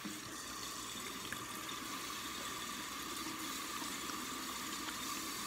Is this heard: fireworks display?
no